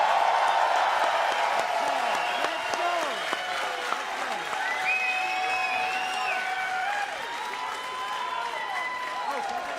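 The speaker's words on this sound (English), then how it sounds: "let's get one more round of applause for Rander moving on in the competition." Crowd applause and cheering at an international axe throwing championship, sustained and fairly even throughout, with some scattered whoops and chatter mixed in.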